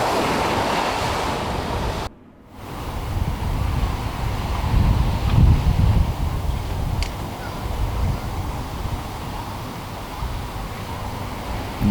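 Steady ocean surf rolls onto a beach below a high walkway, a broad continuous wash with swelling waves and some wind rumble, loud and enveloping, broken by a brief moment of silence near the start.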